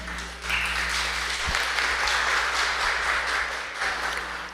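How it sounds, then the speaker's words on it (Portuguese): A crowd at an education briefing meeting applauds steadily for several seconds, a dense wash of clapping that swells quickly and holds before easing off. "Uma salva de palmas."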